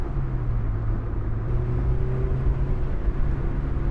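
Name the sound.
Honda S2000 AP1 driving, engine and road noise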